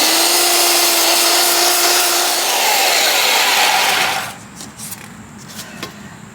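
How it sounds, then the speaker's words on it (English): A belt sander smooths the edges of wooden junk wall hangings, a loud steady broadband whir with a tonal whine, running continuously for about four seconds before cutting off, leaving faint clicks and handling noise. "I'm just tweaking these edges down with a belt sander"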